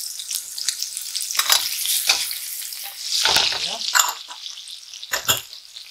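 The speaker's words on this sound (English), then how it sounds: "And then I'm gonna add my garlic." Three garlic cloves hit a hot pan for a Chinese pork stir fry with ginger and spring onion, giving a soft steady sizzle with stirring scrapes and clatter, moderately close.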